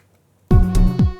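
A retro synth in Logic Pro with an asymmetrical square wave, recreating a track from The Social Network, plays two short notes, each with a quick pitch glide, loud and close after a moment of silence.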